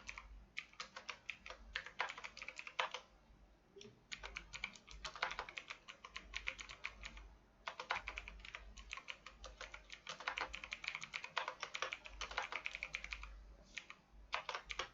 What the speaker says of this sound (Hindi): इसके अंदर एक लेटर टाइप करते हैं।